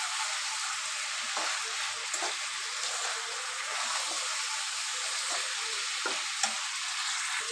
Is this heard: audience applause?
no